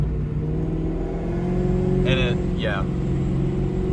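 A procharged New Edge Mustang with transmission problems accelerates while driving, its engine drone steady and close throughout, with people talking over it.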